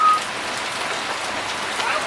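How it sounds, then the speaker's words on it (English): Steady rain on a wet day in Phuket, a dense even patter of drops on surfaces filling the whole stretch, close and fairly loud with no voices. "it's a nasty rainy day in Phuket"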